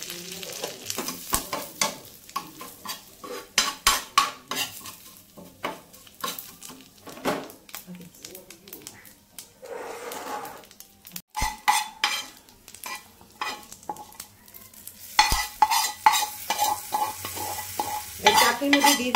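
Curry leaves, mustard seeds and Kashmiri chilli powder tempered in hot ghee for a semolina idli chutney, giving bursts of sizzling and spattering with spoon stirring and clinks, loud and close, with no talk over it.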